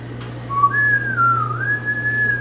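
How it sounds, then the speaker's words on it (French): A man whistles a tune close to the microphone, a single clear melodic line that glides up and down for about two seconds against a quiet background hum. "il siffle toutes les chansons"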